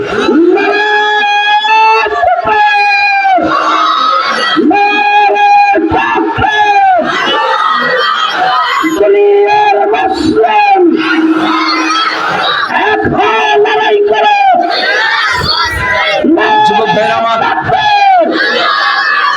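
A large crowd at an outdoor Bangladeshi waz mahfil religious gathering roars the takbir response in loud, repeated chanted bursts, voices swelling together in rhythmic waves.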